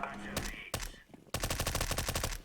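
Rapid automatic gunfire from a weapon in Counter-Strike: Global Offensive, a couple of single sharp shots followed by a dense burst of evenly spaced rounds, loud and close, with brief speech faintly underneath.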